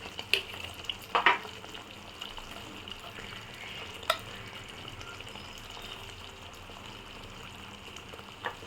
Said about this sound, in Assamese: এতিয়া এইখিনি দিয়াৰ পিছত মই অলপ সময় ভাজিম যেতিয়ালৈকে এই তেলটো মছলাৰ পৰা ফুটি ওলাই নাযায়